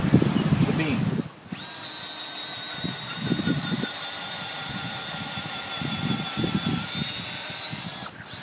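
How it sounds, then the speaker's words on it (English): A power drill bores a hole into a wooden pergola beam, whining steadily for several seconds before stopping abruptly, with voices heard briefly at either end around the drilling. "Now we're going to drill a hole to set those in on top of the beam."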